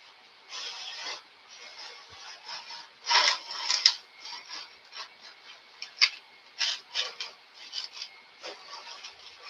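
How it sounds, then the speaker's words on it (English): Wooden model aircraft sheeting is cut out for a repair with a blade, giving a run of close, scratchy rasping strokes in uneven bursts, some sharper than others, with no talk. "So we'll go ahead and cut this guy out."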